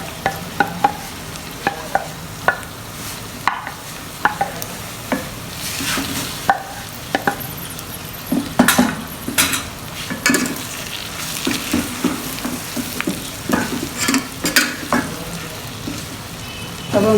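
Okra frying in a pan with spices and dried fenugreek, a steady sizzle broken by repeated scraping and clinking strokes of a spoon stirring, close and loud throughout with no voices.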